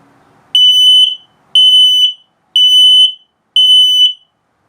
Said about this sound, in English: then it'll signal the low battery alarm 4 times